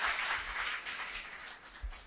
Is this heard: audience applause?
yes